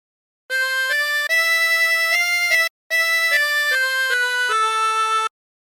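Harmonica plays a phrase of God Rest Ye Merry Gentlemen, with clear sustained reedy notes including a bent draw note, heard alone with a brief break midway.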